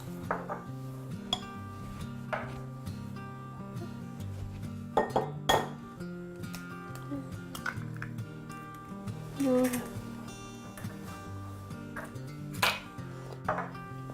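Egg and salt stirred into dough in a bowl for a lemon meringue tart, heard as steady clinks and scrapes of a utensil against the bowl with irregular sharper knocks.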